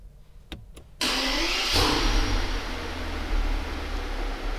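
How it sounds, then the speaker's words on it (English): A 2020 Mercedes-Maybach S600 Pullman Guard with a twin-turbo V12 clicks a couple of times, then the engine starts with a sudden roar and settles into a smooth, loud, steady idle heard close by. "we will listen to the sound of this V12"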